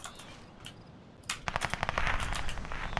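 Gunfire in a video game, starting with a few scattered distant shots and then breaking into a dense, loud burst of rapid automatic fire.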